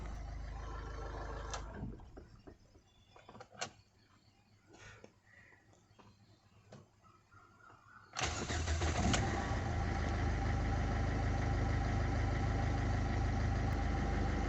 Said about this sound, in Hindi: तो गाड़ी आधे सेल्फ में ही स्टार्ट हो जाती है।